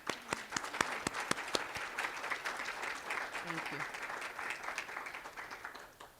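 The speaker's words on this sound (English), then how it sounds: "I want to give them all a round of applause right now." A conference audience breaks into sustained applause, with sharp individual claps at first that blend into a steady, fairly distant wash of clapping.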